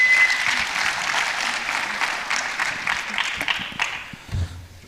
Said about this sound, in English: Ollie's asked that we give everyone a round of applause